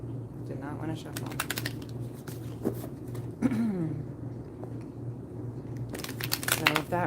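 Tarot cards are shuffled in two quick bursts of crisp riffling and clicking, close by, with a quiet pause between them.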